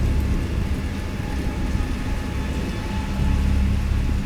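A thunderstorm in the Lovecraftian video game Dagon: steady heavy rain with a deep, continuous rumble of thunder filling the background, no voices.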